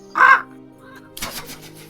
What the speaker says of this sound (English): as the raven flies away